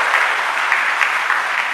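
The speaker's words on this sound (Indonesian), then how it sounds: "Tepuk tangan saja kasih bapak-bapak ini." A church congregation at a GKI service claps together in a continuous even patter, moderately loud and sustained without talk over it.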